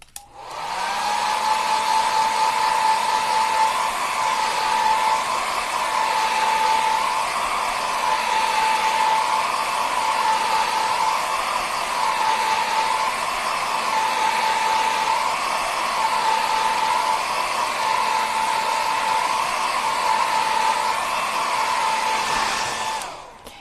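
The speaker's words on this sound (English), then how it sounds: "I'm going to hit this with the blow dryer." A hair dryer blasts steadily at close range for over twenty seconds to dry a fresh acrylic painting of a bluebird, giving a continuous loud whine with a faint wavering pitch and no talking.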